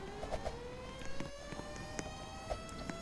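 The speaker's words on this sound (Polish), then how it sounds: "No, no już trochę spóźnione syreny." Sirens wail with a slowly climbing, sustained pitch, moderately faint and steady, broken by a few soft knocks in the background.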